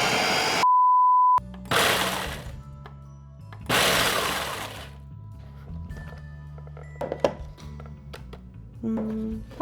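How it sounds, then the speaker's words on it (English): A food processor crushing Nutter Butter cookies into crumbs whirs in loud bursts as pieces crunch and rattle inside, with pauses and clatter between pulses and a short beep near the start. "We're gonna put the Nutter Butters into the food processor to get our crumb for the crust"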